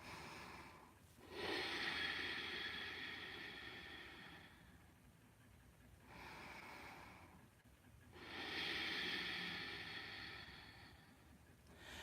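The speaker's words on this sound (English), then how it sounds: "Ujjayi breathing from Ashtanga" Slow, deep ocean-like ujjayi breaths from Ashtanga yoga through a constricted throat, two long hissing inhale-exhale cycles, steady and close.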